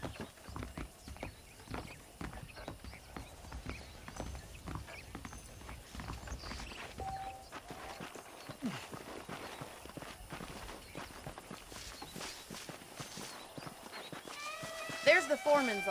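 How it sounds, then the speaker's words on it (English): Saddled horses in the Red Dead Redemption video game clip-clop at a steady walking pace throughout, with a brief whinny, while someone talks over the hoofbeats. "The horses are saddled up over here."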